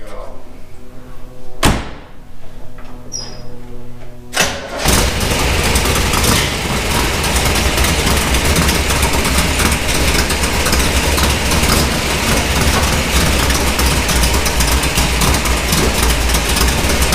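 A Corvette Stingray in a driveway: two heavy door thuds, then the engine fires up loudly and settles into a steady, deep close-up idle that runs to the end.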